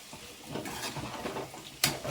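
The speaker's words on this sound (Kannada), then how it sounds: "ಇದನ್ನು ಕೂಡ ನೀಟಾಗಿ ಮಿಕ್ಸ್ ಮಾಡ್ಕೊಳ್ಳಿ" A spoon works potato and garam masala around a hot pan, giving soft scraping strokes over a steady sizzle, with a brief sharper clink of utensil on metal near the end.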